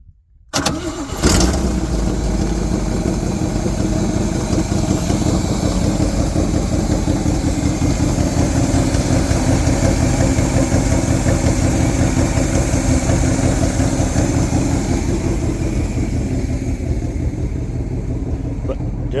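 A 1964 Chevy C50 V8 truck engine, long unused, turns over and catches, then settles into a steady, loud, rumbling idle that runs for the rest of the clip, with a voice briefly heard.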